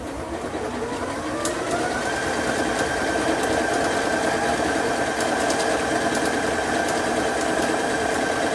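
A sewing machine stitches a first row in a steady, fast mechanical whir with fine rhythmic clicking, close and continuous throughout without talking.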